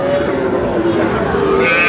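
A bull calf moos loudly and steadily at a crowded Aftabganj cattle market, its drawn-out low call continuing through the clip over the busy hum of the market.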